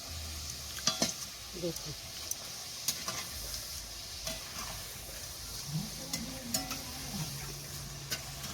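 Potato bhujia fries in hot oil with a steady soft sizzle, punctuated by frequent clicks and scrapes of a utensil against the pan, close by, while a person speaks a few quiet words.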